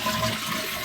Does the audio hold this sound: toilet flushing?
yes